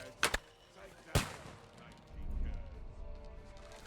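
Gunfire in the video game Kingdom Come Deliverance 2 during a battle at a bridge: two sharp, loud shots crack close together, then a heavier blast, followed by rumbling noise.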